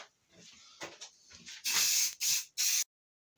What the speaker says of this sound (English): So now, just to finish them off, we're going to give them a quick coat of lacquer.